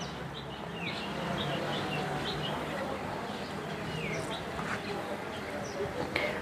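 Deshi giribaj pigeons in a loft give soft scattered coos and chirps, faint over a steady rustling background hum.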